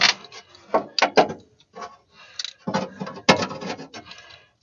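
A socket on the end of a nut driver clicks and ratchets against a fuel pump nut on a 1953 Chevy truck engine, in short irregular metallic bursts close by, with no talk.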